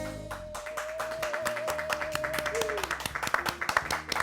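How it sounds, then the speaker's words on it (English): Studio audience applause during a South African entertainment talk show taping, a dense crackle of many hands clapping steadily throughout, with a sustained musical tone and light percussion running underneath. "Come on, I'm sure we deserve more clapping."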